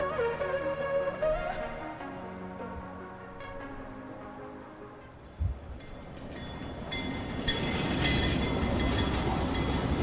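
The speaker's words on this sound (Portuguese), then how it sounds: "Olha o trem de novo." A train passes over music in a music video, starting with melodic tones and swelling into a loud, broadband rumble of wheels and carriages with a sharp clack midway.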